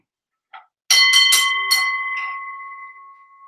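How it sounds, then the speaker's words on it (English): A ringing bell opens a wrestling prediction show: a soft tap, then several quick metallic strikes, and a bright tone that rings on and slowly fades, with no talk over it. "I want to get my opening bell here."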